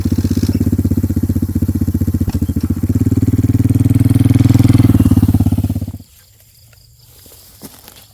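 A motorcycle ridden along a canal in rural Isan, its engine running close and loud with a steady throbbing putter that swells, then cuts off abruptly, leaving faint outdoor background.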